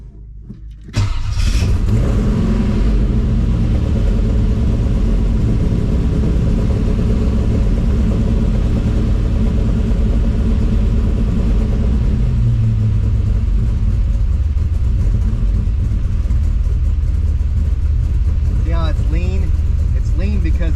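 A carbureted car engine, just converted back from Holley Sniper EFI to a carburetor, cranks and starts, then idles loudly and roughly with a steady low rumble and some unevenness, running without choke while cold; a voice speaks briefly near the end.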